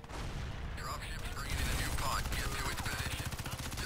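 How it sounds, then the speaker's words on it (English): Rapid automatic machine gun fire in the Crysis 3 multiplayer beta, a dense steady stream of shots with mechanical clatter, continuous at moderate level throughout, with a voice partly audible underneath. "No, I had my own machine gun."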